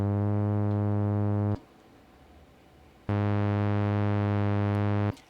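A synthesized electronic tone pitched between G and G sharp plays in two loud, steady, buzzy bursts of about one and a half and two seconds, separated by a short quiet gap.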